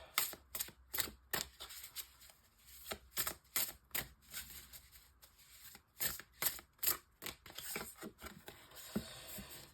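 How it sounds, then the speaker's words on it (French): Oracle cards from the Wisdom of the Angels deck being handled and shuffled, a quiet series of sharp riffling snaps and flicks in irregular bursts, close and without talk. "Je prends une carte de la sagesse des anges."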